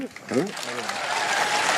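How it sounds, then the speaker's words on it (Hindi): Applause rises from an audience at a live event, a dense spread of clapping that swells after a short burst of speech and carries on steadily to the end. "ताली बजा दो"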